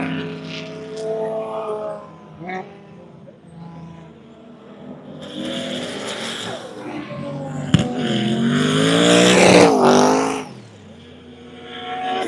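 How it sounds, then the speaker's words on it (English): Drift cars at a Formula Drift event at Road Atlanta, engines revving and rising in pitch with turbo whine as they pass at moderate distance, growing louder toward ten seconds before fading, with voices in the background. "Hear that spool from here?"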